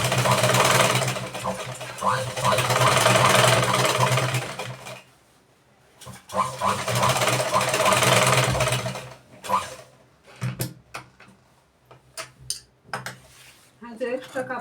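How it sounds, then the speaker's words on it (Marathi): A sewing machine stitching fabric for a blouse, a loud, close rattling run lasting several seconds, then a brief pause, a second run, and scattered short clicks and knocks of handling near the end. "आणि तो वरतून एक शिलाई टाकून घेऊ कापड"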